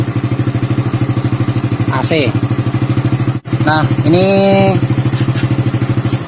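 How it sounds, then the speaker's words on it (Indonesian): An old Honda Supra motorcycle engine runs steadily on an AC CDI ignition, a fast even putter throughout, loud and close, while someone talks over it briefly. "ini motor nyala memakai arus"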